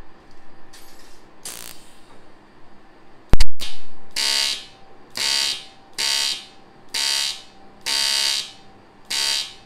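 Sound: Longwel TIG AC/DC 215P aluminium welder welding in AC mode

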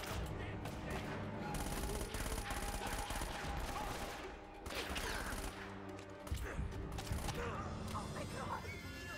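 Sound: gunfire in the video game Uncharted

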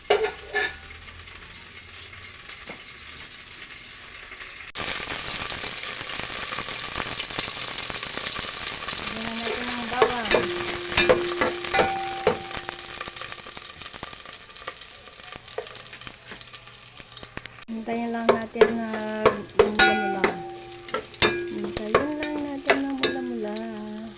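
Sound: cooking oil sizzling in a frying pan

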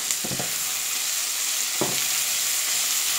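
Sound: grated potato and sweet potato frying in a pan

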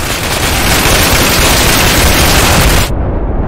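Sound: machine gun fire in the video game Insurgency

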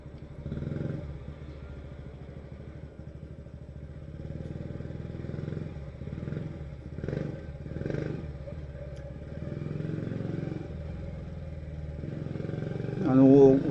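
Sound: motorcycle engine with aftermarket muffler

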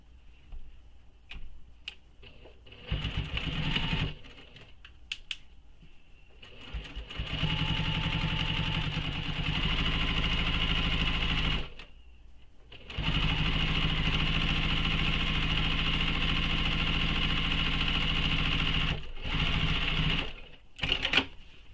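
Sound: sewing machine top stitching a shoulder bag

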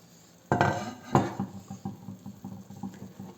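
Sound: lid opened on clay cooking pot

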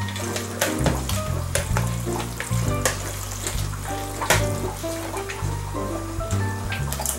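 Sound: ground beef being mashed while frying in a pan

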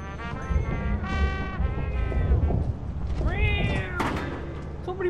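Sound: cat meowing into a microphone

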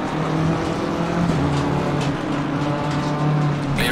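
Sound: race car passing on the left in Assetto Corsa Competizione video game

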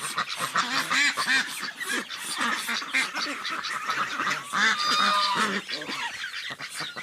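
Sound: ducks and Muscovy ducks quacking

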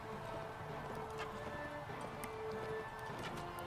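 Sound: horse galloping hoofbeats in video game

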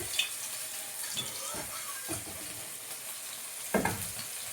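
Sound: koi fish frying in hot oil

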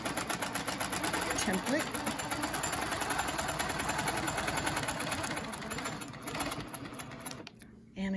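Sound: sewing machine quilting around a twirly ruler template

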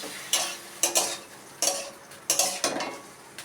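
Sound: mustard and poppy seed paste sautéing in a pan

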